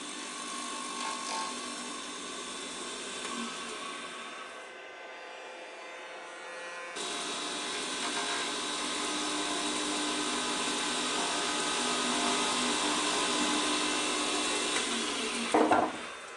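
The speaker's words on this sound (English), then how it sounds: "I get on with the sanding." A power sander working over a mosaic wood piece runs as a continuous whining buzz, quieter at first, then pausing briefly before resuming louder and steadier, with a short scrape near the end.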